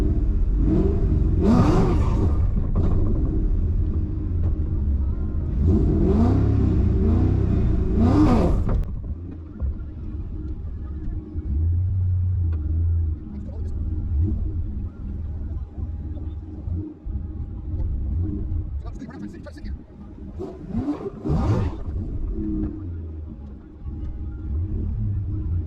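A Ford Mustang at a stick shift drag event rumbles and revs in short bursts, with two loud surges early, a lower idle rumble between them and a later rev, while people talk nearby.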